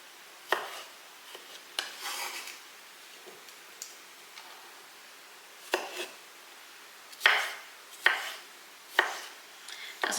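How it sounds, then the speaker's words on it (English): A kitchen knife dices ripe plums on a cutting board for a homemade Asian plum sauce, giving a few separate sharp chops and taps spaced irregularly, close up and fairly quiet, with no talking. "So let's get these finely diced and into the measuring cup."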